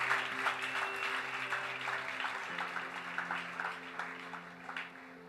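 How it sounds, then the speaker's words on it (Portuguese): Steady applause from a church congregation, with sustained musical tones underneath; clapping continues throughout at moderate volume. "Aplauda forte ao Senhor e recebe essa palavra"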